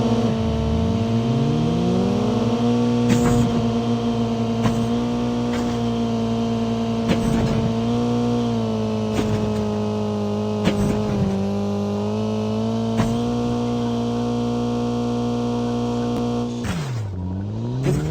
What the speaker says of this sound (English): I am really enjoying driving this vehicle in FPP